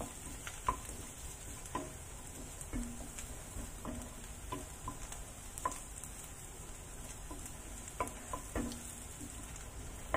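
Sliced garlic fries in a pan, a soft, steady sizzle with scattered light taps and scrapes of a utensil stirring it, fairly quiet and without talk.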